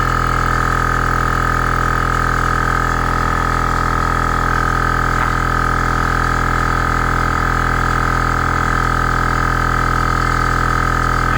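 A defective 200 PSI air compressor runs continuously at a loud, unchanging level, with a steady droning hum and a whining tone and no pauses throughout.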